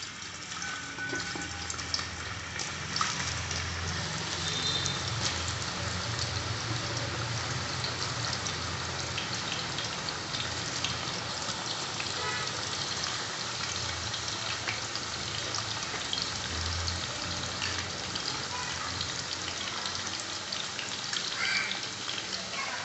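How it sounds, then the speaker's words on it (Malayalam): Banana slices for chips fry in hot oil in an uruli, a dense, continuous crackling sizzle like steady rain that holds at an even loudness throughout, with no talk. "നമുക്ക് ഉരുളിലേക്ക് വറക്കാനായിട്ട് ഇടാം."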